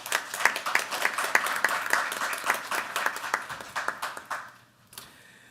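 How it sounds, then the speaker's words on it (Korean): Audience at a National Assembly policy forum on R&D tax support giving a round of applause, many distinct hand claps forming a lively, moderately distant burst that gradually thins out and fades. "윤 과장님께 격려의 박수를 한번 좀 쳐드리겠습니다"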